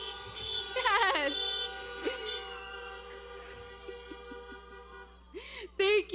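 Car horns toot at a high school graduation, several short honks near the start and a couple more near the end, with quieter gaps between.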